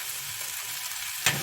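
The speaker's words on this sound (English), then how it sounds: "we're going to get the egg in there. Scramble it up." Egg is scrambled into hot fried rice in a pan, sizzling and crackling steadily with a sharper burst of frying near the end.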